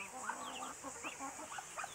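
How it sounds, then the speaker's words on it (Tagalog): Faint chicken clucks come in short bursts against steady background noise, with no other clear sounds. "So yun yung manok namin dito."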